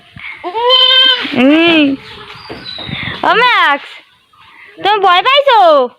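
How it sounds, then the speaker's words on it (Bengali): A goat bleats loudly and repeatedly in several drawn-out, wavering calls, close by, with a person speaking between and over the bleats in a home setting. "ছাগল কেমনে ডাকতেছে"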